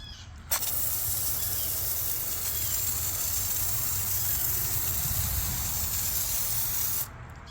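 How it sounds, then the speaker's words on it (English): Steady hissing spray of foaming cleaner from a pump sprayer onto a house wall runs continuously for about six and a half seconds, close and loud, starting and stopping abruptly, with no talking. "I'm just going to spray it on the wall of my house here"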